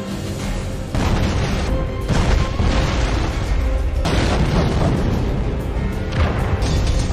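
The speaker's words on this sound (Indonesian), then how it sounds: "polisi pun mulai masuk ke bar, yang membuat bom yang dipasang pun meledak" A bomb set inside a bar detonates in a Jackie Chan police action film. A heavy booming blast hits after a quieter second, followed by sustained rumbling, crashing debris and further bursts at loud, full volume.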